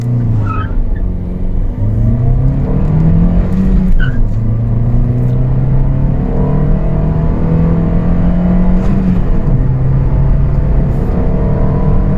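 A Toyota Yaris ATIVX with a manual gearbox accelerates hard from 0 to 100 km/h, the engine note climbing through several gears with brief dips at each shift, loud and close, with no talk.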